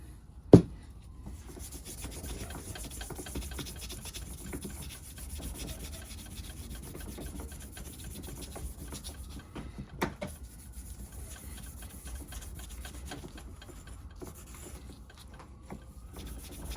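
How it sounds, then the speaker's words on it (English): Steady scrubbing of metal parts on an Italian Di-blasi scooter with a Scotch-Brite pad and WD-40, a quiet continuous rubbing rasp with a couple of sharp knocks, no talking. "A little bit of Scotch-Brite and WD-40 cleans right up."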